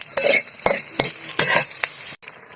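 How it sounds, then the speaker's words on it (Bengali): A spoon scrapes and clinks through potato fry in a pan, several brisk stirring strokes with faint sizzling underneath, close and clear, ending in a short pause. "আলুটা আমার সিদ্ধ হয়ে গেছে এখন একটু নাড়িয়ে ফেলে নামিয়ে নিই"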